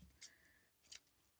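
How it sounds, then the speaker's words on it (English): Scissors snip a piece of ribbon for a junk journal project, giving two quick, faint, close snips about a second apart. "So cut me a bit of ribbon."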